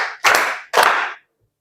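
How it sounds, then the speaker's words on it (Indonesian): Two sharp, loud hand claps a half second apart in a classroom clapping game, close and clear, followed by silence. "tepuk tangan"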